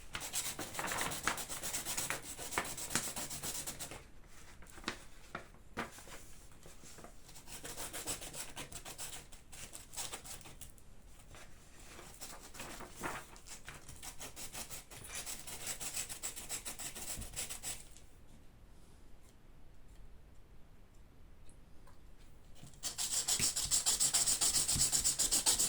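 Hand file rasping rounded plastic parts of a Tamiya Neo Fighter buggy model kit, a close, continuous scratchy rubbing in rapid strokes, pausing briefly before resuming louder.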